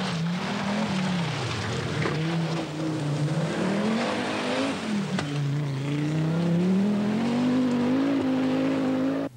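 A rally car's engine roars on a stage of the 1982 Lombard RAC Rally, its loud, close drone climbing and dipping in pitch as it accelerates and shifts, heard alone without commentary.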